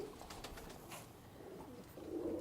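Ferozpuri pigeons coo softly in low, repeated throaty murmurs close by, with no voices over them.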